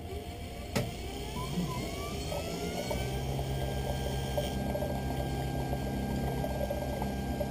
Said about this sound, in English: It is hardwired into my Santinelli edger